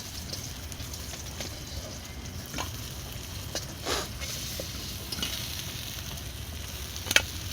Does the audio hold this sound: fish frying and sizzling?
yes